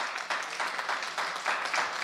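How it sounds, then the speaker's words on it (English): An audience applauds inside a church at a press announcement: dense, steady clapping with slight surges, fairly close and continuous throughout, with no talking. "If we can just give her a round of applause."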